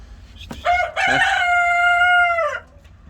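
Ornamental-breed rooster crowing once up close, a loud drawn-out call of about two seconds, with a short cluck from the chickens just before it.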